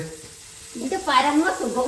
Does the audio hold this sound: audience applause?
no